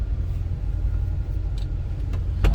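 A 1975 Chevrolet Corvette coupe with automatic transmission idles smoothly, a steady low rumble close by, with a couple of faint clicks near the end.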